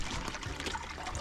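Warm water pours from a bucket into a cold-water hot tub set in a truck bed, a steady close splashing trickle running through the whole short moment without talk.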